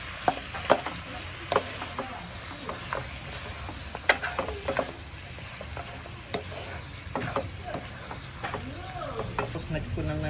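Pork ribs are stirred with tomato paste in a frying pan, a low steady sizzle under repeated scraping and clinking of the utensil against the pan.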